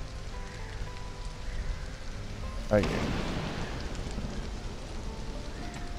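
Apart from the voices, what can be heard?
rain falling, video game Stranded: Alien Dawn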